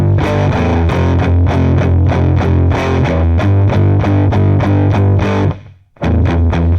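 A distorted electric guitar chugs a fast, driving riff on an open string for a song lesson, with steady repeated picked notes, a brief gap near the end, then resuming.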